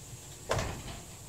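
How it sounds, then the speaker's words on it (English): A door shut indoors in a quiet room gives a single soft thud with a brief rattle, near and alone. "I shut the door all the way"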